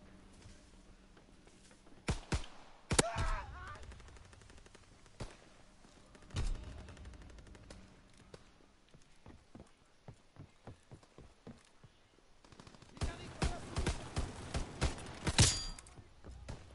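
Gunfire in a PS4 video game: scattered sharp shots and bursts, with a quick rattling run of cracks near the end, separated by quiet gaps.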